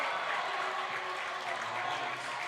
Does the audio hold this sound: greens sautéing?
no